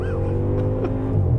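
Audi RS6 with a V10 engine accelerating at full throttle through a stock gearbox, a loud steady drone heard from inside with rising engine tones, no voices over it.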